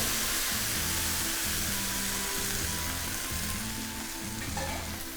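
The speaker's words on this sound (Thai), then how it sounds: "กลิ่นหอมได้ที่แล้วผมใส่น้ำครับ" Loud, steady sizzling from water poured into a hot pan of dry-roasted vegetables for Thai braised chicken wings, a continuous hiss throughout with a low melodic backing underneath.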